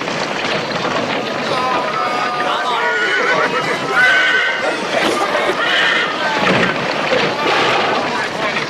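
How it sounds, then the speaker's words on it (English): A horse whinnies repeatedly in a forest as soldiers move out, the neighs mixed with hoofbeats, commotion and voices in the background. "I must ride on my own horse."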